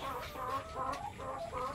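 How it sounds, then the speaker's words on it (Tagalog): Chickens in battery cages cluck continuously in soft, overlapping murmurs, a low and fairly faint flock chatter. "ating mga manok"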